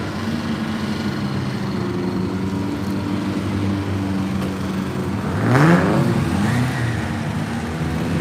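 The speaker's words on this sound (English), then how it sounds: "There's some rather rude sounding MGs. I don't know how well you can hear the engine noises" Engines of 1930s MG cars drone steadily at close range, with a louder pass and a rev swelling midway before settling back to a continuous rumble.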